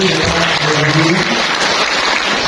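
Applause from the audience at a government family-planning event in a hotel in Jember, Indonesia, with thick continuous clapping and a faint voice or tone running underneath.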